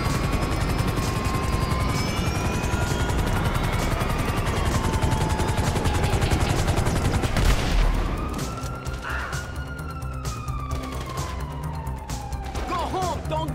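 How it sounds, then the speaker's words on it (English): A helicopter in GTA V roars with a steady rotor drone, mixed with bursts of gunfire and a siren during a heist getaway; the noise eases partway through as a lighter engine tone carries on. "Chopper, homie!"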